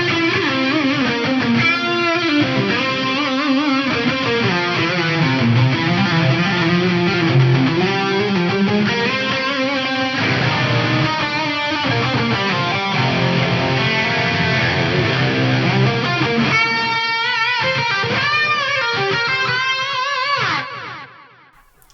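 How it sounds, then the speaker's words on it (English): An electric guitar lead through a Fractal FM9 with pitch detune layered on plays a dense, saturated melodic line with a thick chorused shimmer, loud and continuous for about twenty seconds before cutting off, with no talking. "My lead scene with pitch detune on top of it sounds like this."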